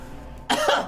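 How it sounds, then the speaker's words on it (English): A single short cough bursts out after a brief quiet moment, close and fairly loud, from someone voicing a cough while playing Mother 3. "These coughs are actually just starting to become real."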